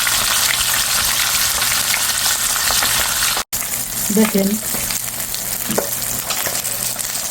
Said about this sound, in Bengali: মাছটা একটু মচমচে করে ভাজবো।